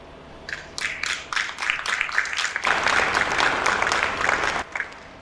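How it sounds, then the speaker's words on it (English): Audience applause for the governor at a Lagos transportation policy event: scattered claps that quickly build into steady, dense clapping from a crowd, then cut off near the end. "We applaud you, Mr. Governor."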